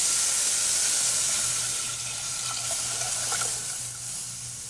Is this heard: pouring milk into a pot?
yes